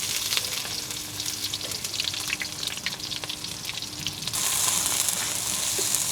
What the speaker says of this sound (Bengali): তেলের সাথে পেঁয়াজ একটু নেড়ে নিচ্ছি।